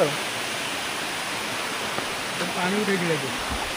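Heavy water pours steadily at Ashokjhar waterfall in Jajpur, a broad continuous roar, with a voice rising briefly over it near the end.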